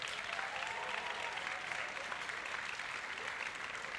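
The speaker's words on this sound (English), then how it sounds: "One more round of applause." Steady, fairly distant applause from a college convocation audience, an even wash of clapping that holds without a break throughout.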